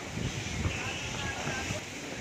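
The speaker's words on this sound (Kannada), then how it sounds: "ಈಗ ಜೋರಾಗಿ ಗಾಳಿ ಬಂತಲ್ಲ, ಸೂಪರಾಗಿದೆ ನೋಡೋದಕ್ಕಿದು" Strong wind roars steadily across the microphone in a continuous rushing blast, with a faint voice buried underneath, during a DEMU train journey from Kolar to Yelahanka as light rain begins.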